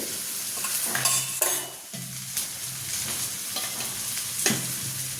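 Gram flour dough with turmeric, red chili, salt and a little oil being mixed and kneaded by hand in a bowl, close scraping and squelching strokes in irregular bursts, no talking.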